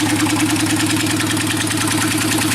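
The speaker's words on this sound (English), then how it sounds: "See, it idles perfectly." A motorcycle engine idles steadily up close, a loud, even, rapid mechanical thrum with a constant low pulse and no change in pace.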